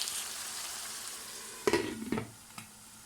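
Tomato masala with salt and turmeric frying in a pan: a soft, steady sizzle under a couple of sharper spoon scrapes and taps near the end, close and fairly quiet, no talking.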